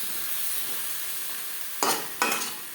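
Chicken and onions stirred in a hot pan for biryani: a steady sizzle underneath, then two sharp, loud spatula scrapes close together near the end.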